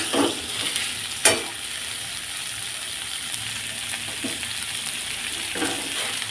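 A paste of ground cumin and coriander sizzles steadily in a hot pan for a Bengali cauliflower, potato and tengra fish curry, with a spoon scraping and stirring through it and an occasional sharp clink against the pan.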